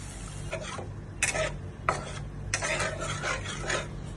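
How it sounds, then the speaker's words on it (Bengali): Yogurt fish curry masala with added water being stirred in a pan, giving a few short scraping, rasping strokes of a spoon against the metal, close and fairly quiet, with no voices. "একটু নাড়াচাড়া করে দিচ্ছি"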